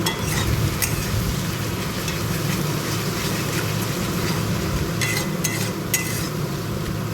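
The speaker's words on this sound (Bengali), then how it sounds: "ভালো করে নাড়িয়ে নাড়িয়ে মশলাটাকে ভেজে নিতে হবে।" Spice paste of chili powder, turmeric and salt frying and being stirred in a pan for a chicken curry, a steady close sizzle under continuous scraping of the spoon, with a few sharper clinks toward the end.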